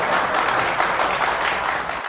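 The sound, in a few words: applause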